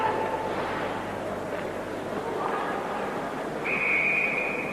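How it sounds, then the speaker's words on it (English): A referee's whistle sounds at a 1990 ice hockey world championship game between Czechoslovakia and Sweden, a steady shrill tone rising over the murmuring arena crowd near the end. "And the whistle blows, so we'll have another change of personnel out there."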